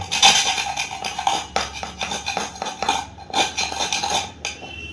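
Close, bright metallic clinks and scrapes ring out as a kitchen knife is picked up and handled among other metal utensils, with irregular taps and short rattles in a quiet domestic room.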